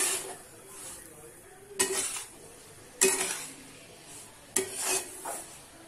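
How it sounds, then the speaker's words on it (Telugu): Semolina (rava) frying in a pan over medium flame for laddu, with a soft continuous sizzle broken by three distinct scraping stirs of a spoon against the pan. "బాగా దీన్ని ఫ్రై చేసుకోవాలి మీడియం ఫ్లేమ్లో పెట్టి స్మెల్ వచ్చే వరకు సూజీ అనేది ఫ్రై చేసుకోవాలి"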